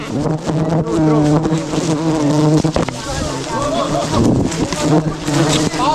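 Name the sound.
swarm of aggressive wild bees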